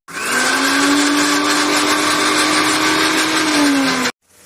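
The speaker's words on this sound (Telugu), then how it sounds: "ఇప్పుడు మనం మిక్సీ రౌండ్ తిప్పేసుకున్నాం" Kitchen mixer grinder running at full speed with a steady, loud motor whine and whirring blades, then cutting off abruptly near the end.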